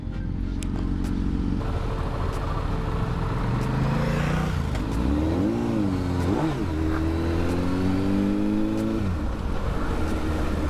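Motorbikes ride through Switzerland, engines loud and close and revving up and down. The pitch climbs and falls in bursts over a constant throaty drone.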